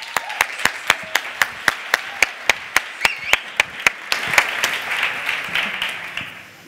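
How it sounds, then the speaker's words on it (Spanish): Conference audience at a JavaScript developer event claps for the speakers: a brisk, evenly spaced run of sharp claps swells after a few seconds into a dense, fuller wash of applause that slowly tapers off. "Un aplauso."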